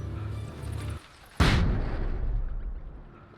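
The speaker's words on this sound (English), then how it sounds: "Y'all ever just flashbang yourself?" A flashbang grenade goes off in the video game Alan Wake: one loud, close, sharp blast after a brief hush, with a long hissing ring that slowly fades.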